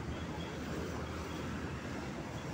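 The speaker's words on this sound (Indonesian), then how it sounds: "Ini sepertinya lokomotif CC203." A steady, loud rumble of a train hauled by a CC 203 diesel locomotive passing, broadband and continuous, with no talking over it.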